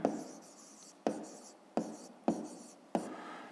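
A pen moves across a school maths notebook in five short, distinct strokes, each starting with a sharp tap and fading into a soft scratch, close and quiet with no voice over it.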